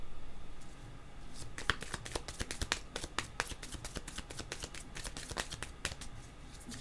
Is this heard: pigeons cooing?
no